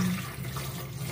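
Water runs steadily into a large cooking pot for a beef bulalo soup, a short close gush with no voices over it.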